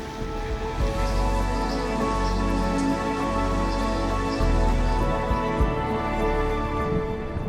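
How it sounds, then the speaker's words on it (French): Steady rain pours down in a village during a bikepacking stop on a gravel ride from Toulouse toward the Aveyron, a dense continuous patter with heavier drops landing close by, with no voices over it. "Et après ça devrait se calmer niveau pluie."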